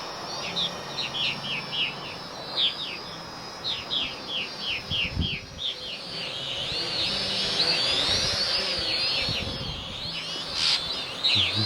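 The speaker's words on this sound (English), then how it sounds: "Those birds are gonna get it." Birds chirp outdoors in quick repeated tweets and trills against a steady background hiss of insects, the calls moderately close and continuing through the whole stretch.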